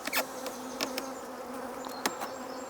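Honey bees at an opened hive buzz in a steady close drone, with individual bees zipping past the microphone in brief louder passes.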